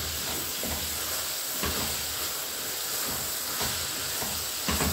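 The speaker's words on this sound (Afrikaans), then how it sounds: "laat hy braai" Cabbage frying and steaming in a pot, a steady broad sizzle and hiss with a few soft stirring knocks, close and continuous with no talking.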